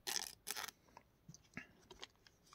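Plastic wrap being torn and peeled off a DVD steelbook case: two loud crinkling bursts up front, then softer rustles and handling noises.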